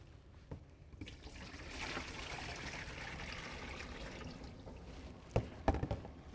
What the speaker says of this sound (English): I'm going to take my basin and I'm going to empty the water